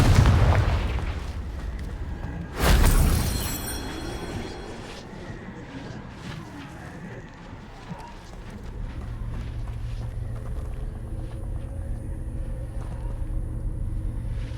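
A Confringo fire spell bursts in Hogwarts Legacy with a sharp, loud explosive blast that rolls off into a lingering rumble and fades under ambient game sound.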